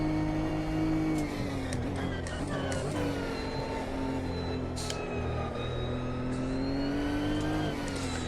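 A race car engine in the Automobilista 2 racing sim holds a loud, continuous drone under throttle, its pitch rising and dipping slightly as power is fed in and eased off, with no gaps.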